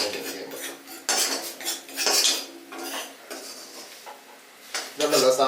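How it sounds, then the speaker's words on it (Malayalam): A metal spoon scrapes and clanks against a pan while okra and potato are stirred, in irregular bursts of clatter with quiet gaps. "പിന്നെ ഇതെല്ലാം ഒന്ന് ഇളക്കി ഒന്ന് പിടിക്കും."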